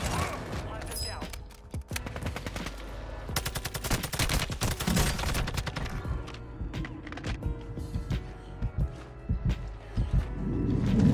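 Rapid bursts of TAQ 56 rifle fire in the Warzone (Modern Warfare 2) video game, loud repeated volleys with short gaps, mixed with game effects and a voice talking over it.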